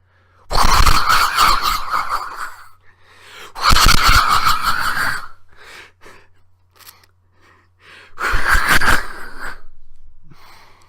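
A voice imitates a tornado with three long, loud breathy whooshing bursts separated by short pauses, each rising and fading like rushing wind.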